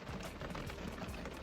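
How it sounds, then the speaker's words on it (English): Rain falling steadily on a wooden dock at Loch Ness in Inverness, Scotland, a continuous close hiss and patter with no voices. "Just sitting, listening to the rain."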